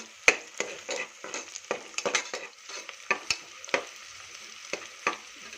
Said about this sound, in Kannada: ನೋಡಿ, ಇದು ರೋಸ್ಟ್ ಆಗ್ತಾ ಇದೆ.